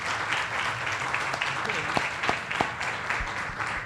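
Audience applause at a talk on suicide prevention and mental health, steady broadband clapping from a crowd with a few sharper claps and faint voices mixed in.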